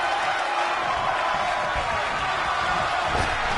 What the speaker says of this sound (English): And this crowd's starting to perk up